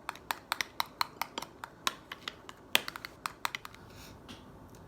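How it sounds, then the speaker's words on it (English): A whisk taps rapidly and rhythmically against a bowl while blending poultry seasoning and onion powder, giving about sixteen sharp, close clicks over a few seconds before trailing off. No one speaks. "I'm just going to whisk this together a little bit"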